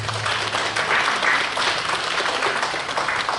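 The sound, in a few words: audience applause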